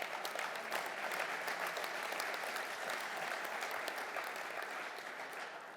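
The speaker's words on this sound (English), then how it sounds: "Yeah, you can clap." Applause rises from the audience at a LiUNA labour union conference, steady dense clapping that holds for about six seconds at moderate distance and eases slightly at the end, with no speech.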